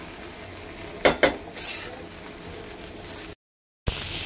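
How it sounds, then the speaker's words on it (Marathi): Potato poha frying in a pan with a spoon scraping and stirring, a couple of sharp utensil clinks over a soft steady sizzle, then a brief gap. "खूप छान आणि मस्त पोहे फ्राय करून घ्यायचे"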